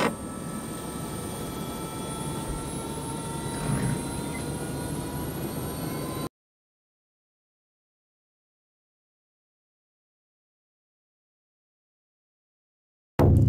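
A steady, loud aircraft engine roar from a private jet holds for about six seconds with a faint whine above it, then cuts to silence before a brief loud return at the very end.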